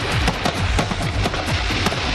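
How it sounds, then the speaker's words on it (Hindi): Grand fireworks bursting over the new ghat on the Saryu river in Ayodhya during Deepotsav celebrations, a rapid series of sharp crackling pops and bangs, loud and continuous with no talking. "आसमान में इस भव्य आतिशबाजी का आनंद लेते हुए अद्भुत दृश्य"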